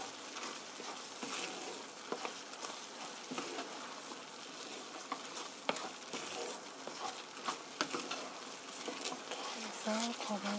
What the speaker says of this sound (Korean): 푸질면이 퍼지지 않게 올리브 오일 1테이블스푼 넣어주시고요. 이렇게 고루 섞어주세요.